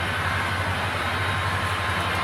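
A model train rolls along a home layout with a steady, continuous rumble and rail clatter, close and even throughout with no talking.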